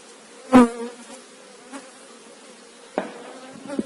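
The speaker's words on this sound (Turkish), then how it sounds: "Ancak az bir rüzgar var. O yüzden arılarımız kızıyor." Agitated honeybees around a hive on a windy day in a chestnut honey flow: scattered buzzing passes, one loud near swipe and a few fainter ones, over a quiet background.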